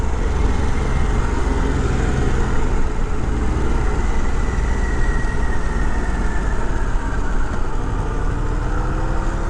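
A 2023 Harley-Davidson Pan America Special motorcycle riding at speed, with a loud, steady engine drone and wind roar that holds throughout, no talking.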